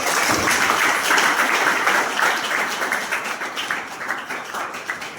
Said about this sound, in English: Once let us give him a big claps